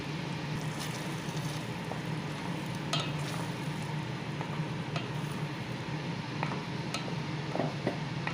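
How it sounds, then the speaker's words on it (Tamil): Ground paste of two tomatoes sizzles steadily in a hot pan for channa masala, a constant frying hiss with occasional light clinks of stirring. "தக்காளி பேஸ்ட் ஆட் பண்ணிக்கலாம்."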